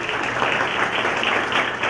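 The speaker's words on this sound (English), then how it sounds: "They're cheering me on." Teachers at an award ceremony applauding, a dense steady wash of clapping from a crowd that holds even and loud throughout.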